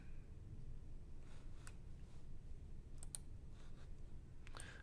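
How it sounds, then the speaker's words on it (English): Computer mouse clicking to open a file, a few sharp, faint clicks spaced out over a quiet room hum, including a quick double click. "Now we can choose this XML file and then click open."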